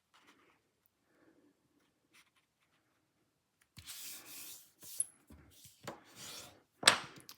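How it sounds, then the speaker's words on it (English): A2 cardstock card being folded by hand: near silence, then a series of close scraping, rubbing strokes as the crease is pressed and smoothed, ending in a sharp crisp snap of paper. "I'm going to fold it just like we always fold cards"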